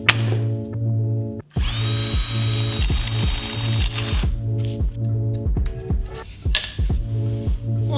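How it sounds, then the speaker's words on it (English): A small power drill whines in short bursts against rhythmic ratcheting clicks, with a high-pitched spinning tone mid-way and background music underneath. "trying to drill out the hole with a tiny drill bit was also not a good idea"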